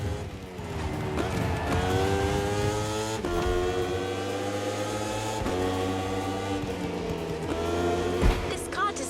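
KTM RC16 racing motorcycle and Ferrari 488 GT3 race car on a circuit in The Crew Motorfest video game, loud engines revving and shifting through gears, pitch rising and dropping with brief sharp shifts.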